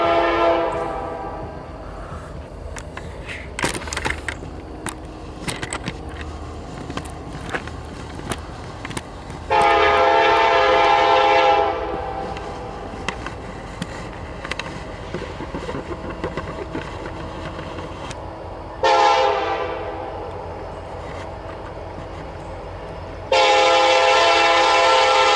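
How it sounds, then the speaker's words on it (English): A southbound train rolls past in Abingdon, Virginia, its horn sounding in several loud blasts over a steady rumble of passing cars and engine. "here's a train coming."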